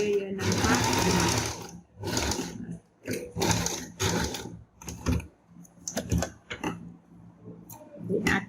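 A sewing machine stitches a cloth face mask in repeated bursts of rapid whirring, starting and stopping several times with short pauses between runs, loud and close.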